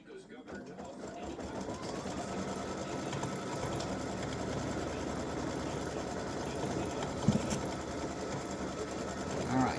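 An embroidery machine sews a placement stitch in a fast, steady, buzzing needle rhythm that runs continuously at moderate loudness, with a faint click near the middle.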